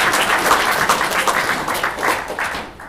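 Audience at an Angular.js meetup in Melbourne gives a brief round of applause, a dense patter of claps from a modest crowd that tapers off at the end.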